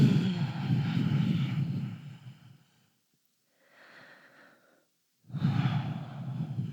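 Slow, deep breathing during a vinyasa yoga plank flow, with a long audible exhale, a pause of near silence, a softer inhale, then another heavy, close breath out.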